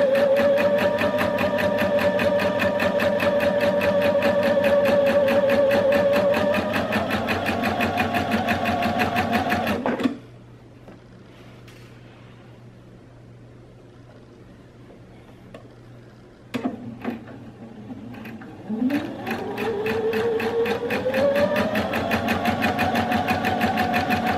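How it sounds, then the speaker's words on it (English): A sewing machine runs a straight stitch around the channel of a refashioned men's shirt, a close steady mechanical hum with rapid ticking, pausing midway for several seconds of near quiet before speeding up again. "following that overcast line all the way around with a straight stitch"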